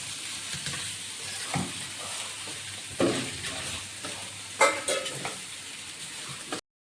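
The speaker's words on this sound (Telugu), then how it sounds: "ఇప్పుడు దీంట్లోకి అయితే మనం బాయిల్ చేసుకున్న పాస్తాని అయితే యాడ్ చేసేసుకుంటున్నాం. తర్వాత దీన్ని అయితే బాగా మిక్స్ చేసుకుందాం." Boiled pasta being stirred and tossed in a frying pan for a white cheese pasta, with soft scraping and light sizzling and a few louder clattering strokes of the utensil against the pan, close by.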